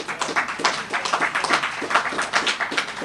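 Audience applause at a monthly meeting, a steady wash of many hands clapping at close to medium range, with no talking over it.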